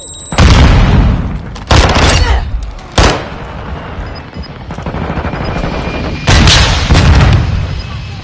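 Semtex grenade blasts in a video game, several heavy booming bursts at close range with loud broadband rumble, separated by sustained background battle noise.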